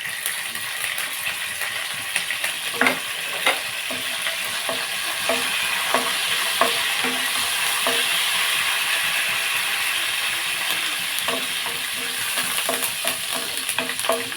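Chopped garlic sizzles steadily in a hot pan for a broad-bean fry, with a constant hiss broken by sharp scrapes and clicks as a spoon stirs it, close by and without voices.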